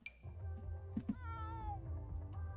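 An adult cat in The Sims 4 video game gives a drawn-out meow with a short chirp before it, clear and close over a low background hum.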